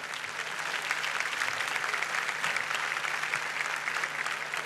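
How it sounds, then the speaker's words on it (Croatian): A concert audience at the Meštrović Gallery in Split, at the 2023 Melodije Jadrana show, claps for the orchestra in sustained, even applause, moderately loud and without talk. "Može li jedan aplauz za orkestar naš?"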